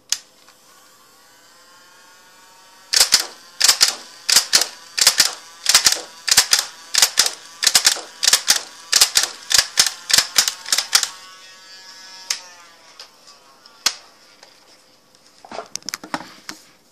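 A Nerf Stockade blaster fires a rapid run of sharp, snapping shots, each followed by a clacking mechanism. The sharp cracks are loud and close, with a few isolated clicks and rattles afterward.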